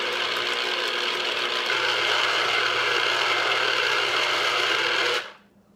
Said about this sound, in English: So I just cut the limes in half, and then I let the machine do all the work.